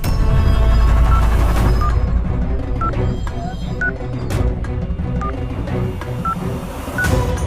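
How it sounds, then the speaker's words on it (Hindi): Phone keypad tones beep one after another over a steady background hum, evenly spaced through the clip. "फोन करके देखता हूँ।"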